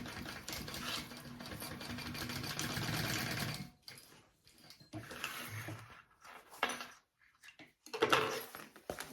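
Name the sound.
sewing machine basting nylon strap connectors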